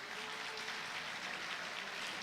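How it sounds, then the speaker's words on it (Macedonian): Steady applause from a concert audience in Kočani, a dense even patter of many hands clapping throughout, fairly distant and unbroken, with no voices over it. "Еден аплауз за истото."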